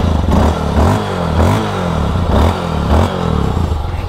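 A kick-start motorcycle engine revs up in repeated surges, roughly once a second, with a clattering mechanical idle between bursts, close and loud.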